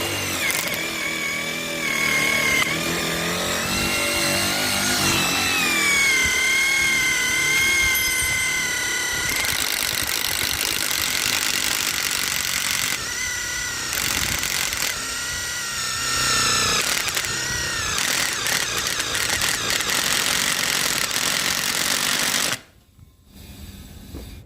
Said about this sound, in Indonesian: Ini aja ya, 22 mili mata bor kipas.